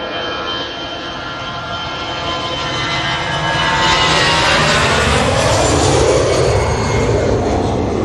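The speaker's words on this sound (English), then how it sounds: "EasyJet A320 off to Paris." EasyJet Airbus A320 jet taking off for Paris, a loud, steady engine roar that swells as the aircraft passes near, with no talking.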